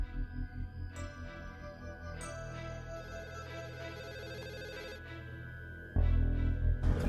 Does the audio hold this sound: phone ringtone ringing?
yes